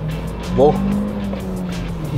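A 2023 Hyundai Verna with a 1.5-litre, 158 bhp engine accelerates hard on an expressway. Its low, steady engine drone and road noise run continuously under a person talking.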